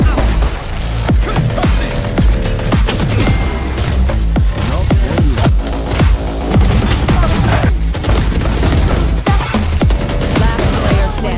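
Explosive booms burst through dense, steady rapid gunfire during a professional Valorant match at the 2025 MSC quarter and semi finals, loud and continuous for the whole stretch with sharp impacts scattered throughout.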